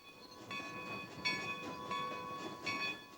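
Steam train running with the side rod turning the drive wheels, a rhythmic chugging with repeated pulses about every second and a steady whistle-like ringing tone, moderately loud and close.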